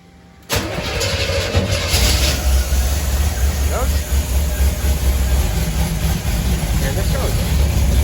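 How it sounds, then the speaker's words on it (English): A 1977 Chevy Camaro cranks and fires on a cold start, then settles into a loud, steady, rumbling idle close by that holds throughout, with a person speaking briefly over it. "So let's get a cold start."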